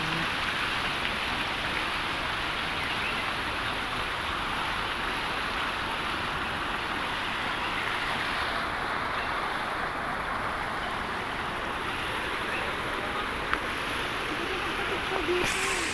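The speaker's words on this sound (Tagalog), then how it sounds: "dumadaloy ang tubig, guys" Water running steadily inside a cave, a continuous dense rushing hiss with no breaks, fairly close and even in level, with one brief knock near the end.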